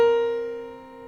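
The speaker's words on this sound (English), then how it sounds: "This is the minor seventh." A single sustained two-note chord forming a minor seventh interval, struck once and left to ring and slowly decay, clear and alone with no voices.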